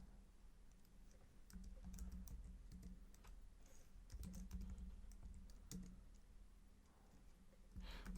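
Quiet, steady typing on a computer keyboard while coding JavaScript, with irregular light key clicks running through the whole stretch and no talk.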